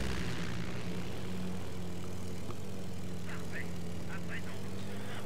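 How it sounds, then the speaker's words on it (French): Propeller engine drone of a reconnaissance plane flying over a battlefield in the video game Company of Heroes, a steady low hum beneath ambient wartime noise, with no talk. "maintenant je vais vous envoyer un avion de reconnaissance juste pour vous montrer ce qui nous attend plus haut"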